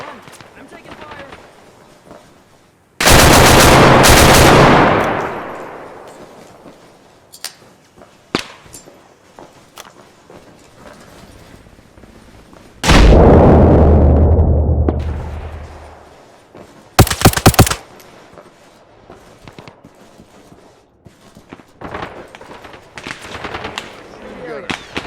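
Gunfire rings out in the military video game ARMA Reforger during an AI airport assault: loud sharp bursts of shots with echoing tails, a rapid cluster of cracks, and scattered fainter distant reports between them, with radio-style voices talking at times.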